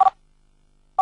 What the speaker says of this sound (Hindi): आ गया उसका फोन आ गया